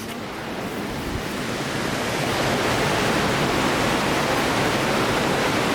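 Water pours steadily through sand filters at a city water treatment plant, a dense, even rushing that swells slightly after the first couple of seconds and then holds constant, with no voices.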